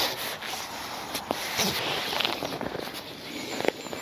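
An Outwell canopy tarp stretched over a tent has its straps pulled tight, giving a run of soft fabric rubbing and scraping with a few brief sharp ticks, close up and fairly quiet, without speech.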